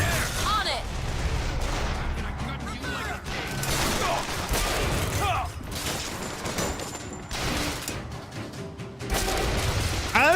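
Sniper rifle gunfire in BioShock Infinite, sharp shots and impact bursts scattered through a dense, loud game soundscape with heavy low rumble, while someone talks over it.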